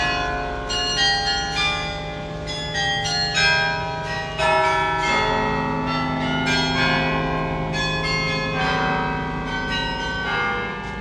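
Church bells ring in a tall tower in Ghent, Belgium, several bells striking steadily in an overlapping peal. The rich, loud, sustained tones carry without pause and with no talk.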